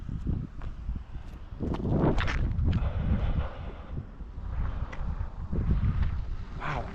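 Gusty wind buffets the microphone outdoors on a disc golf course in Somerset, coming in broad low rumbling surges that rise and fall throughout, with a few faint thuds beneath.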